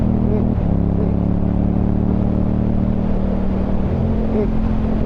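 KTM Superduke 1290 motorcycle engine under open throttle, a loud continuous droning roar with steady harmonic tone and slight pitch shifts, heard close against wind rush.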